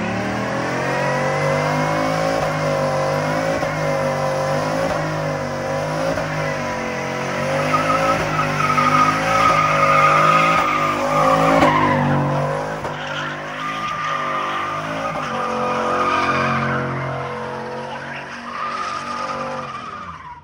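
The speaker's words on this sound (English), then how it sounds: "As most people have saw during the one donut this truck has done, and I will put the clip here right now." A pickup truck fitted with traction bars does a donut, its engine revving hard while the tires skid and squeal continuously for about twenty seconds, loud and close with no talk.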